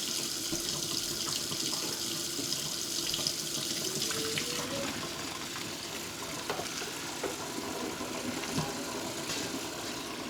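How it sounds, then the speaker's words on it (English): Cold tap water runs steadily into a sink while boiled ramen noodles are rinsed, a constant close splashing rush with a few clinks and knocks of utensils or a pot mixed in. "the ramen said she boil for 5 minutes and rinse with cold water"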